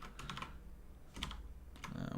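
Clattering keystrokes on a computer keyboard during a game-engine coding session, several quick bursts of clicks close up, with no talking.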